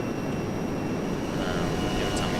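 A-10C jet from an ArmA 3 mod, a steady, loud, buzzy engine drone with a thin high whine running over it, continuous with no breaks.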